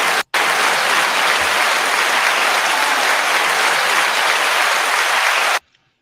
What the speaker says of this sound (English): You didn't know you were getting applause into it today, did you?